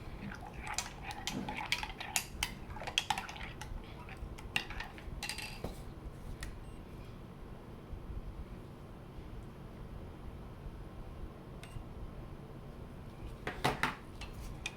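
A spoon scraping and clinking against a container while melted soap base is stirred with emerald green colorant, soft intermittent taps and scrapes in a quiet room, alone with no talk.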